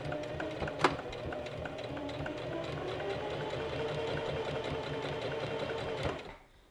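Sewing machine stitching down the edges of a gathered maxi dress, a steady continuous whir with a brief sharp click near the start, running alone until it stops abruptly at the end.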